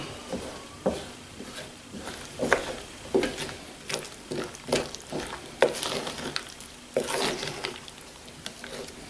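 Eggs being whisked for an 18th-century rhubarb pie: soft wet taps and squishes of a utensil against a bowl repeat in a loose, steady rhythm, close and fairly quiet.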